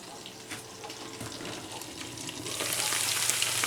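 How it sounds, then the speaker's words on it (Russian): Potatoes and onions sizzle and crackle in a pan in Kamchatka, a steady frying hiss that grows louder toward the end. "Картофан жарится с лучком."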